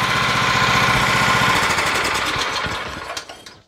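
A Kohler Command engine on a Craftsman riding mower runs loud and steady with a rough, knocking beat, then winds down and cuts out near the end.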